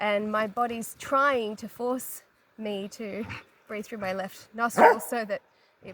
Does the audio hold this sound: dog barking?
yes